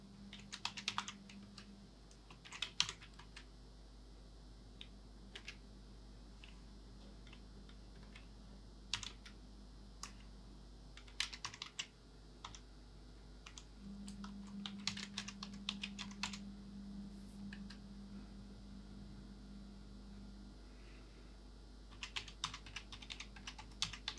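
Registration details being typed on a computer keyboard: quiet bursts of rapid keystrokes separated by pauses, close and soft over a low steady electrical hum.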